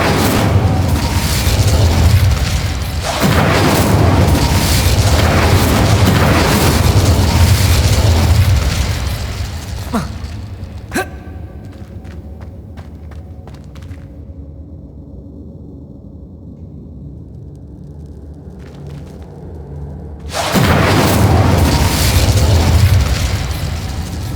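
Incendio fire spell blasts in Hogwarts Legacy roar as loud, sustained fiery bursts, fall away into a quieter stretch with a few crackles and pops, then flare up loudly again.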